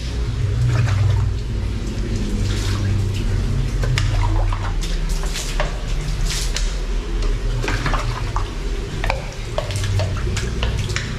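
Water poured and splashed across a prayer room floor to rinse it during renovation work, a loud, steady rushing wash that runs continuously with no talking.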